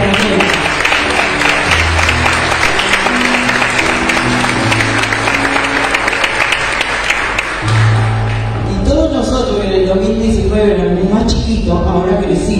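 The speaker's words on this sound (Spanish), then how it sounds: "le damos un gran aplauso" Applause for the couple on stage at a choral festival, a crowd clapping steadily for several seconds, fading as music takes over.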